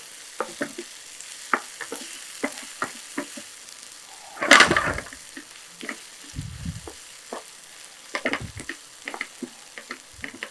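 Chicken and potato curry with green chillies being sautéed in a pan, a steady low sizzle broken by repeated clinks and scrapes of a spoon stirring, with one louder burst of clatter midway.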